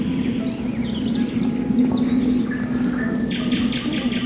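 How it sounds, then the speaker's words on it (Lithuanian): Small birds chirp intermittently outdoors near a camper, giving short, thin tweets scattered over steady low background hum and ambient noise. The birds sound moderately distant, and no one speaks. "Tie paukščiukai."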